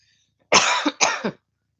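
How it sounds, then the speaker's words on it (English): Two harsh, close coughs in quick succession, alone against silence. "I've got a cough"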